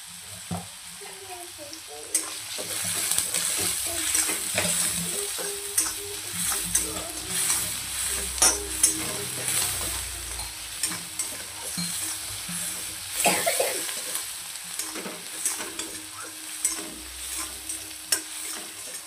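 Veg cabbage Manchurian being stirred and fried in a pan, with a steady close sizzle and repeated scraping strokes of the spoon running throughout, no talk.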